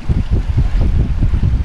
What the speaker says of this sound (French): Donc on vient de mettre les voiles